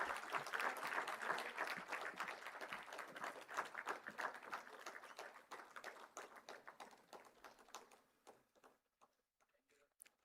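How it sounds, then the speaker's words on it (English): An audience applauds a speaker at a workshop on landslide mitigation for hill roads, dense clapping that holds strong, then thins to scattered individual claps before fading out. "Can we give him a more energetic round of applause?"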